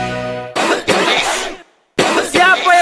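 Harsh, close coughing in a television advert for a flu and cough medicine, two loud bursts of several coughs separated by a brief silence, following a short tonal sound at the start.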